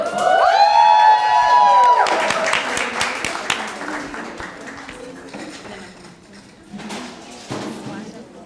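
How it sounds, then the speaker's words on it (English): At a graduation ceremony, the audience claps and cheers for the graduates, a loud burst of applause and whoops. Musical tones sound at the start, then the applause thins into scattered clapping and voices. "let's give another round of applause for all of our graduates."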